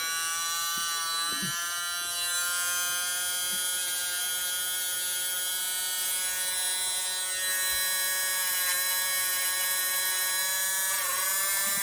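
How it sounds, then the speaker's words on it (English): A rotary tool polishes the sear face of a Sig Sauer P365 pistol with polishing compound, giving a steady, high-pitched motor whine that holds at an even pitch close by for the whole stretch, with no talking. "It can get messy here when I start this rotary tool"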